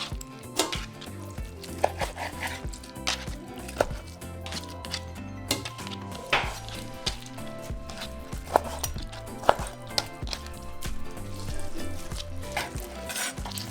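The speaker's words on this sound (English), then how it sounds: "we're going to start by cutting our honeycomb. So we're going to cut them into small cubes, about 1 inch" Knife cutting beef honeycomb tripe into one-inch cubes, with repeated chopping knocks on a board against a busy kitchen background of sizzling and clatter, close and steady, no talking.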